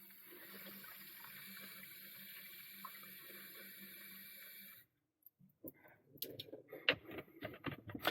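Water runs steadily into a container for nearly five seconds, used to dilute simulated blood for an IV arm task trainer, then stops, followed by scattered handling clatter and small knocks.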